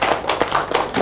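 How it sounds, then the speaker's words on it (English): A group of schoolchildren claps together in a classroom during a Year 1 maths lesson, a brief burst of quick, uneven hand slaps lasting about a second. "Give them a big clap."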